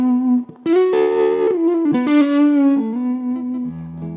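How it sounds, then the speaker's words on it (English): Gibson Les Paul Special electric guitar played through its P90 neck pickup with distortion and effects, a short melodic phrase of sustained single notes and bends, warm and clear. "Let's go to the neck pickup with that exact same tone and see how the pickups react."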